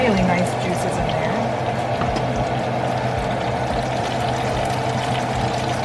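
Duck juices are poured out of a roasting pan in a steady, continuous liquid stream, fairly close and loud, with no talk.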